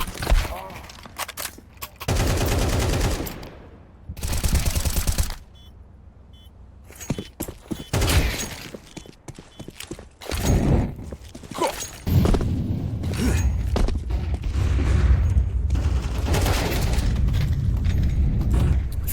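Rapid bursts of gunfire and booming blasts from a competitive Counter-Strike esports match, loud and dense, coming in repeated volleys with brief lulls, some footsteps mixed in, and a commentator talking over parts of it.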